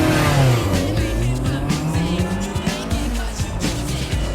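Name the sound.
race car launching from a racing start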